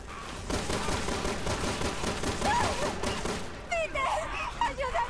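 Rapid bursts of gunfire crackle continuously in a Resident Evil 6 firefight, before giving way to excited voices near the end.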